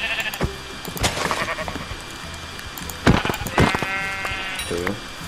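Sheep in Minecraft being struck, several loud bleats with sharp hit effects among faint game ambience, no talk.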